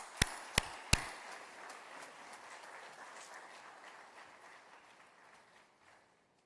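An audience at a business summit applauds to welcome India's Foreign Minister, with a few loud close claps at the start, then steady distant clapping that slowly fades away.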